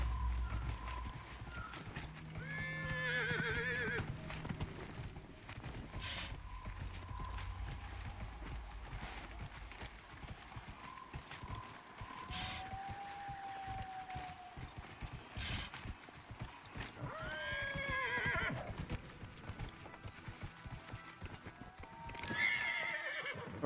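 A horse in Dragon Age: Inquisition whinnies several times amid steady clip-clopping hooves and mechanical clatter, fairly faint and spread across a long stretch.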